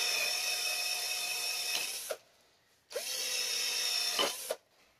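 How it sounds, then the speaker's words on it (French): Power sander working greasy brake parts on a 1990 Peugeot 309 GTI phase 2: two loud, steady whining bursts of about two seconds each, separated by a short pause, close up with no talking. "pourquoi poncer? Parce que c'est plein de gras"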